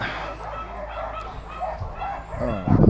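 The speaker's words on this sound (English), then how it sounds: "dogs are crazy. I'm gonna put a stop to that right now." Several dogs barking and yipping excitedly at a bunker build site, repeated bursts near the microphone, with someone talking over them and the barking growing louder at the end.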